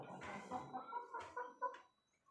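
A rooster clucks in a short series of close, clear calls, ending in quiet.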